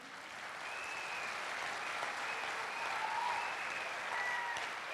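Audience applause at a Hindi motivational talk, steady moderate clapping from a crowd that carries through the whole stretch, fairly distant and even in level.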